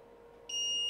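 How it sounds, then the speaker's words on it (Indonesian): A pace timer stopwatch's buzzer starts beeping after the final lap, a sudden steady high-pitched electronic tone over faint background hum. "Kalau nggak ditekan stop, dia untuk displaynya tetap berbunyi ya untuk buzzernya."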